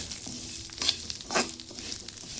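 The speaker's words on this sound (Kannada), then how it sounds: "ಇದು ಚೆಂದಾಗಿ ಚಟಪಟ ನಾವು ಹುರ್ಕೋಬೇಕು." Cumin seeds and kasuri methi (dried fenugreek leaves) crackle and sizzle while dry-roasting in a pan: a soft, continuous hiss with brief popping bursts, close and fairly quiet, with no voices.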